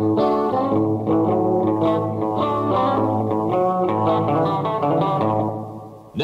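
Reverb-drenched chords sound from a Vox Thomas organ as the amount of reverb is turned up and down, with held notes blurring into a lingering tail, loud and continuous, with no talking.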